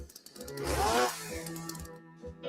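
A chainsaw revs in a short loud burst standing in for a husband's snoring in a radio advert, rising to a peak then trailing off into quieter sputters.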